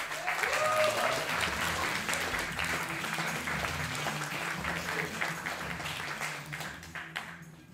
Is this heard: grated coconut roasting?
no